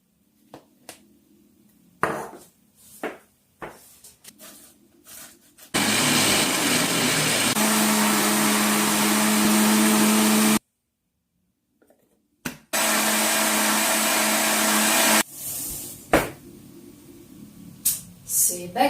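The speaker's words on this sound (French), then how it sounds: "Mon petit mixeur n'était pas du tout assez gros pour la quantité que j'avais prévue." A small kitchen blender whirs loudly while pureeing green vegetables for gazpacho, running in two sustained bursts of steady motor roar separated by a short silence, with brief clatter and handling noises before and after.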